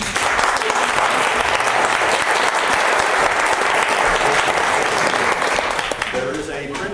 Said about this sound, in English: given them a round of applause